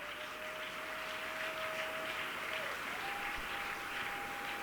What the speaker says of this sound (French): On continue d'acclamer le Seigneur.